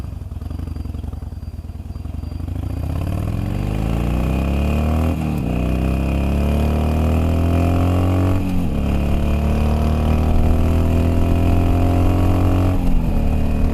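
A motorcycle with Vance & Hines slip-on exhausts revs up repeatedly, pitch climbing in long sweeps before dropping back, loud and close with a harsh, raspy exhaust tone.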